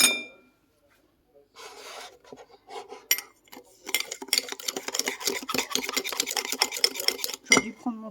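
A spoon or small utensil stirs cookie batter with sugar inside a mug, giving close, scraping, rhythmic clinks against the ceramic that grow busier after a quiet start, with a voice briefly heard at the beginning.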